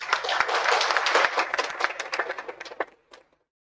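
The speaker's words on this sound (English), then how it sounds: "So I want you all to welcome Ms. Asha Annukar with a huge round of applause." An audience claps at an academic industry event to welcome a speaker. The close, lively burst of many hands thins into scattered individual claps and stops after about three seconds.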